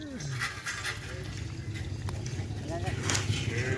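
A small cow lets out a low, drawn-out moo near the start in an open field where the cattle are about to be let loose, with people talking over steady outdoor background noise.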